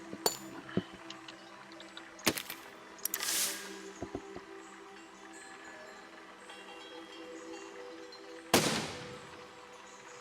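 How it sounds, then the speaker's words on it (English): Cannon fire in the building game Besiege: a few sharp, scattered booming cracks separated by quiet gaps, with one stronger blast near the end over a low steady hum. "what if we shoot it off there with a cannon?"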